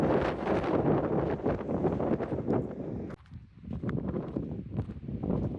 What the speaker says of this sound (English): Kind of a bummer, this wind.